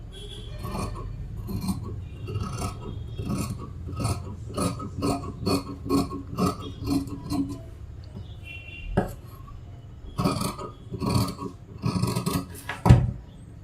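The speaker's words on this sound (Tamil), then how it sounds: "இப்போ நம்ம ஸ்லீவ் வந்து கட் பண்ணிக்கிடுவோம்" Scissors cut through fabric for a blouse sleeve, producing a run of crisp, rhythmic snips, then a pause and a few more cuts close by.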